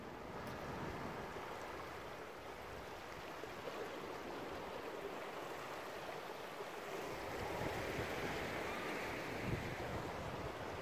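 Ocean surf washes steadily at a beach in December, a soft continuous rush of breaking waves with some wind buffeting the microphone, building slightly louder toward the end.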